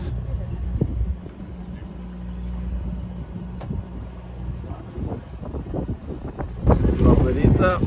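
Wind gusting steadily against the microphone on a sailing trip along the Greek coast, a constant low rumble with people talking over it and a louder buffeting burst near the end.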